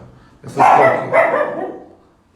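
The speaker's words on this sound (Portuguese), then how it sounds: "Minha cachorrinha me mandando calar a boca aqui." A small dog, a little female, gives two loud, close barks in quick succession, the second trailing off into quiet.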